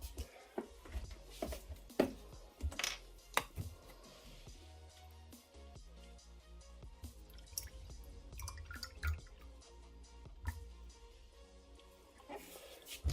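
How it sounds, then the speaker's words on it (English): Distilled water, 48 grams, is poured into a container for a homemade potassium hydroxide battery. It makes faint, irregular splashing and dripping that continues throughout, with soft clinks. "First I will add 48 grams of water."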